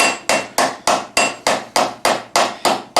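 Ten evenly spaced hammer blows ring out on sheet metal as a steel armour greave is thinned, each a sharp, bright clang with a short metallic ring, close and loud, in a steady rhythm.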